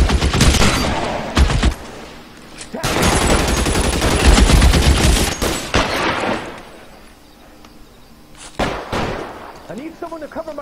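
Rapid bursts of gunfire in the video game L.A. Noire, loud and close, sometimes overlapping into sustained volleys and sometimes a single crack, with a voice speaking between the shots.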